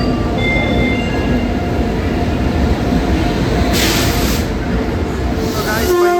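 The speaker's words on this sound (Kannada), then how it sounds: "ಈಗ ಬರ್ತಾ ಇದೆ ಟ್ರೈನ್ ನಮ್ಮದು." A train on the Bangalore to Dharmasthala route pulls into a crowded station, a loud steady rumble of rolling wagons with brief hissing bursts and a squeal near the end.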